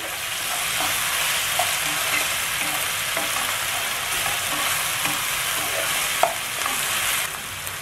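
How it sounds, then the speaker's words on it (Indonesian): Bay leaves, lime leaves and spices stir-fry in oil for Papuan yellow fish soup, giving a steady, close hiss of sizzling with occasional light clicks and scrapes of stirring throughout. "Kita tumis biar harum."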